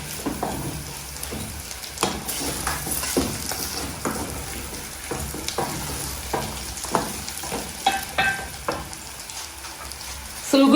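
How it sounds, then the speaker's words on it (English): Onions frying in a pan while pork is wet-fried, giving a steady sizzle with stirring clatter and occasional scrapes throughout, no talk. "So we're going to wait until the onion browns."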